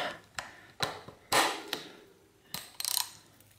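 A bolt on a bicycle brake is worked by hand during a 27-inch to 700c wheel conversion on a vintage bike, making a series of sharp close metallic clicks and ticks spaced irregularly, with no talk.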